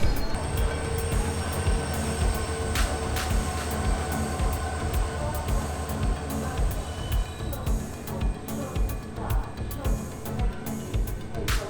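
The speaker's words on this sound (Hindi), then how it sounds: "हमारी शताब्दी ट्रेन तो आ गई है" A Shatabdi express train arrives at a station, a loud, continuous rumble of rolling wagons with rhythmic wheel clatter and occasional metallic squeals and clicks running throughout.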